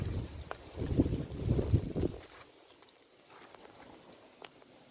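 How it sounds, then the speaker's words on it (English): Gusty wind in a fruit and vegetable garden buffets the microphone in loud low rumbles for about two seconds, then eases to a quieter, steady rush. "It's very windy."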